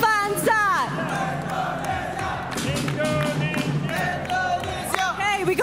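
A large crowd of football fans cheers and yells with sustained roaring and whoops at the eFootball FIFAe World Cup final, loud and close, with a presenter talking over it.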